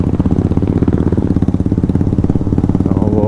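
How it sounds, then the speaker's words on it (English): A Royal Enfield Bullet motorcycle on a road ride to BR Hills gives a loud, close, evenly pulsing thump as its engine beats steadily throughout. "Royal Enfield sound."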